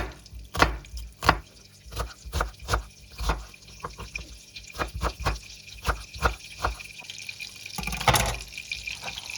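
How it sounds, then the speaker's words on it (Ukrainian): A knife chops an onion rhythmically on a cutting board, sharp irregular thuds in quick bursts, close up with no speech. "Нарізаємо цибулю."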